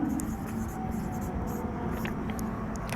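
A pen scratches steadily across paper while an answer is written by hand in a Hindi comprehension lesson. The sound is continuous and close, over a noisy room background with no speech.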